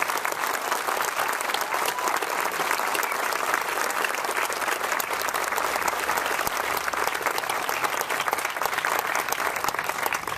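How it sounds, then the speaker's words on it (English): A crowd at the Centennial Hall groundbreaking ceremony gives a long, steady round of applause, dense even clapping from many people that holds at a constant level throughout. "he deserves a round of applause for what he has accomplished, what he's done here"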